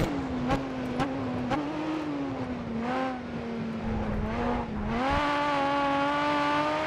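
Race car in the video game GRID Autosport, a steady, close engine whine that rises and dips through gear changes, with brief clicks and a higher-pitched surge of revving toward the end.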